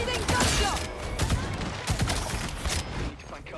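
Rapid bursts of gunfire crackle through a video game battle, dense clustered shots and fusillades over several seconds with a brief lull near the end, mixed with game noise.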